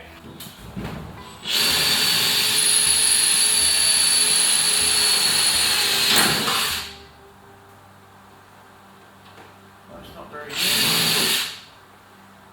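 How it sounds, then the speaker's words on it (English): An electric drill whines loudly for about five seconds, stops, then spins up again for a second short burst while boring into workshop shelving; someone speaks briefly between the runs. "Just broke the drill."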